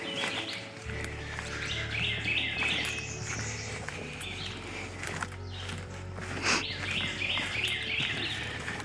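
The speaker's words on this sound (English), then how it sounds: "there's quite a few birds singing in here today" Several birds chirp and sing in bursts over a low steady hum, their tweets rising and falling at moderate distance with no talking.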